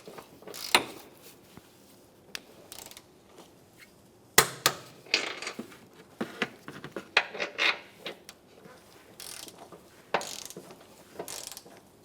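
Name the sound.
torquing Acura MDX strut bolts with a torque wrench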